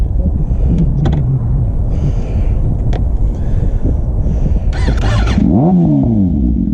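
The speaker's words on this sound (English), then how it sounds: "Let's hear the startup on that thing." A motorcycle engine starts up and revs outdoors, a loud steady rumble with rising and falling engine tones toward the end, heavy wind noise on the microphone throughout.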